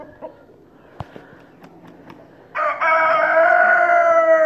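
A few scattered clucks and taps, then a loud rooster crow bursts in and carries on strongly close to the listener, among desi roosters.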